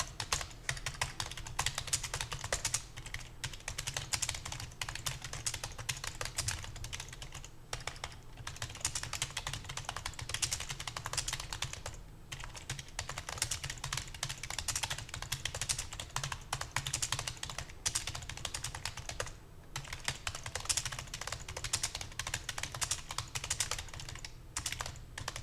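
Steady, continuous clatter of computer keyboard typing, fast and even keystrokes running nonstop with only brief pauses, a line of English text being entered into a Hangul word processor during an ITQ exam exercise.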